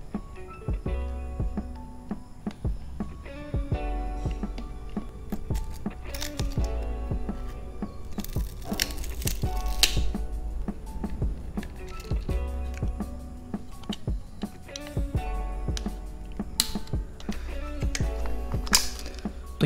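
Small screws being removed from the side panels of a Sony SRS-XB23 Bluetooth speaker during a teardown: repeated close-up clicking, scraping and metallic ticking from the screwdriver and parts, steady for about twenty seconds.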